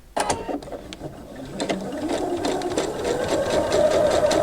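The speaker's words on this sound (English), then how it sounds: "sew this last stretch of binding to our quilt, and we will have it completely sewn on to the front." A sewing machine stitches binding onto a quilt, a close, fast mechanical whir with clicking after a brief start, running continuously to the end.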